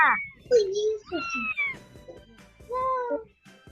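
A cat meows several times in short, plaintive calls, close and clear, mixed with a child's speech-like sounds.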